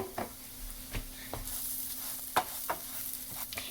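Vegan tibs with jalapeños are stirred in a hot pan, a low continuous sizzle broken by several sharp spoon-on-pan knocks and scrapes at an uneven pace, close by and without speech.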